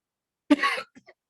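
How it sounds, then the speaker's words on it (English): A single short, sharp cough up close, followed by a couple of faint breathy catches, in otherwise quiet surroundings. "Excuse me, I'm coughing."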